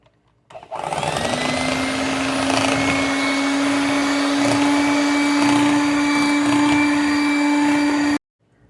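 An electric mixer whirs steadily for about seven seconds, blending key lime juice into a no-bake key lime pie filling: a loud, even motor drone that starts and stops abruptly, without speech.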